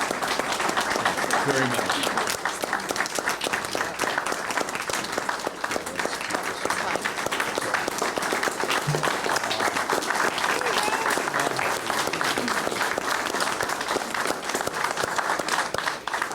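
Sustained, dense applause from an audience at a Rotary Club presentation in Columbus, steady and full throughout, with a brief spoken voice heard over the clapping.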